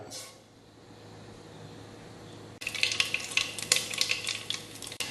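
A teaspoon of mustard seeds hits hot coconut oil for a Kerala bilimbi pickle, with quiet oil first and then a sudden loud crackling sizzle with sharp pops.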